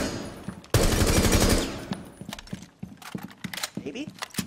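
A rapid burst of automatic gunfire from a Rainbow Six Siege game while running, lasting under a second, then sparse sharp clicks and knocks, with a voice talking over the sounds.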